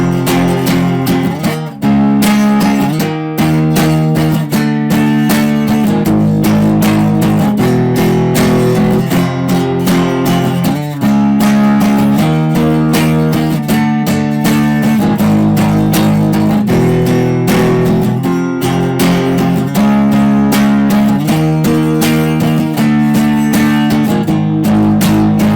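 A guitar plays the ending of a song, loud strummed chords in a steady, repeating rhythm with accented hits carrying on continuously.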